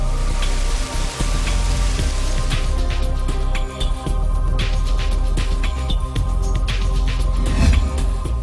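Heavy monsoon rain pours steadily in Himachal Pradesh, a dense, continuous hiss of water on surfaces with scattered louder drips and splashes, close and loud throughout, with no voices.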